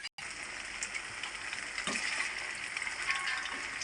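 Food frying in hot oil in a home kitchen, a steady close hiss and crackle of bubbling oil that carries on continuously with no talking.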